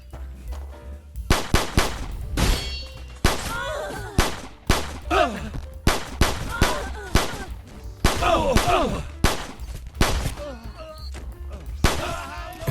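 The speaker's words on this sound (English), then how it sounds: "Another super sick gun in this game. If you just like something basic, it's this beautiful FN57." FN57 pistol fire in a Nomad-modded video game: sharp single shots, close and loud, firing in a fast, uneven rhythm of bursts across the whole stretch, with pauses between volleys.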